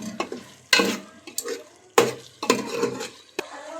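Chicken sizzling in a pan for biryani, scraped and stirred with a few sharp utensil strokes against the pot over a steady frying hiss, close and alone with no talk.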